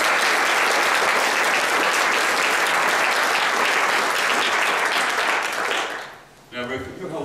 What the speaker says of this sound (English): Give Mary a great big round of applause